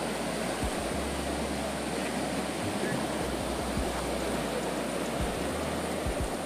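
Water rushes continuously through a channel carved by a landslide near Kuttiady, a loud, broad roar with occasional low rumbles, close by and without pause.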